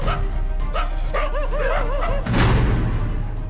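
Several dogs barking and yelping loudly on a street in news report footage, with quick overlapping barks and whiny, wavering yips, then a burst of rougher barking near the end over steady background noise.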